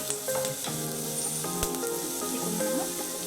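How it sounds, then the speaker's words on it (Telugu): Thinly chopped onions frying in a pan of oil until golden brown, a steady close sizzle with crackles and occasional stirring scrapes, loud and continuous with no talking. "ఇది గోల్డెన్ బ్రౌన్ కలర్ వచ్చే వరకు ఫ్రై చేసుకున్నాం"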